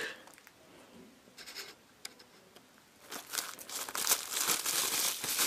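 Crinkly plastic rustling, soft and sparse at first, then louder and continuous as the wrapping is pulled open close by.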